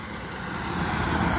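A bus passing on the Trans Java toll road, a steady broadband engine and tyre roar that swells slightly toward the end, close and continuous with no talk.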